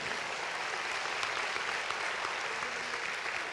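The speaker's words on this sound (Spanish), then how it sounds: "Aplauda al Señor." A church congregation applauds during a Spanish-language Sunday afternoon service, a steady wash of many hands clapping, even and somewhat distant, continuing without a break.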